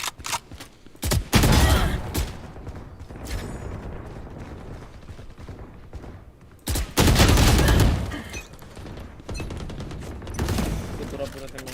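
Video game gunfire comes in loud bursts of rapid automatic shots, with several separated volleys and quieter stretches in between, while players talk over and between the shots.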